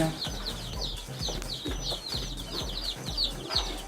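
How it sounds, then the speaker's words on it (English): A crowd of kienyeji chicks in a poultry brooder peep constantly, shrill overlapping cheeps close by over a low steady hum. "So this is where we keep chicks."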